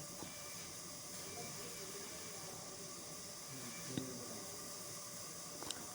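Spiny gourd pieces fry in a little hot oil in a wok, giving a soft, steady sizzling hiss with a couple of faint utensil clinks and no talking.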